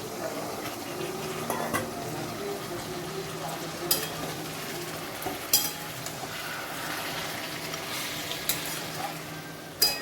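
Water goes into a pan of katla fish head murighonto, followed by a steady sizzle with stirring and occasional clinks of utensil on pot, close and moderately loud.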